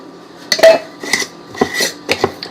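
A pot lid picked up from among dishes and pots in a home kitchen, giving several loud, close clanks and rattles of metal and ceramic in quick bursts.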